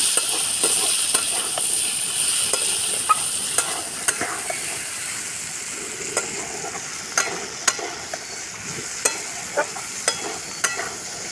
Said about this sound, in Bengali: এরকম করে হালকা করে ভেজে নিতে হবে